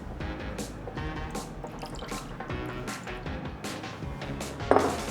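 Fish sauce trickles and drips into a pan holding oysters, a close run of small liquid splashes and drips with a brief louder clatter near the end.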